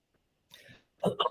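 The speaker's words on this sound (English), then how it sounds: "I'm coughing a little bit here." A couple of short, muffled coughs close to the microphone, with a brief pause between them, in an otherwise quiet room.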